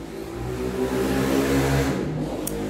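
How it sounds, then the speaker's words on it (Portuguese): A motorcycle passes by outside, a steady droning engine hum that holds and swells slightly before easing off, moderately loud and alone. "Moto passando."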